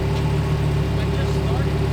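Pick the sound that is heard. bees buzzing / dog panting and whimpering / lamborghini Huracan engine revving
lamborghini Huracan engine revving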